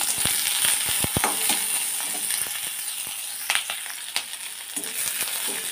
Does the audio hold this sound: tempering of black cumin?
yes